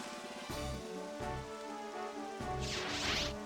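Rain summoned by the Rain Dance move in Pokémon Stadium 2, a steady hiss of falling rain with low synthesized tones pulsing about every second, a brighter swell rising near the end.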